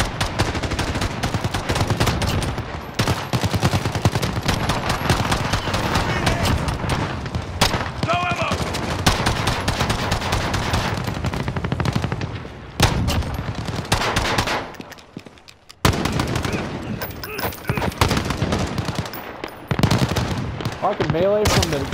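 Rapid automatic gunfire and explosive booms fill a firefight in the video game Call of Duty: Modern Warfare, loud and nearly continuous with brief lulls, while a player talks over the action.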